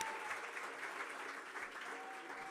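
A small live-music venue audience gives a short burst of dense, steady clapping at moderate distance that fades slightly toward the end.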